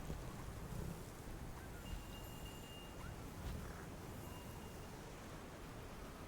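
Steady video game wind rushes in a broad, even roar with no gaps, a constant windy ambience without voices.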